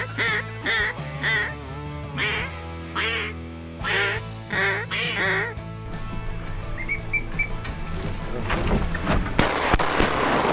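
Ducks quack repeatedly over a flooded duck-hunting area, loud close calls in bursts over the first few seconds, followed by noisier, denser sounds that could include shots.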